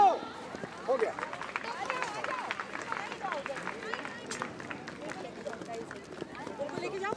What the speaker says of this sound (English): Crowd, make your presence felt with a thunderous applause